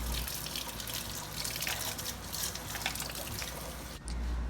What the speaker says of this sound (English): I'm also going to make sure to wash my lids and everything that I'm using for my sauerkraut